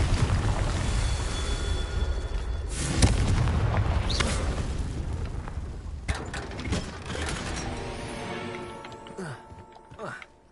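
A Confringo explosive spell cast in Hogwarts Legacy, fiery bursts and booming impacts mixed with clanking mechanical game effects, loud and close, with a voice speaking over parts.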